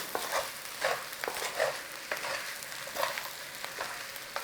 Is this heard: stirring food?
yes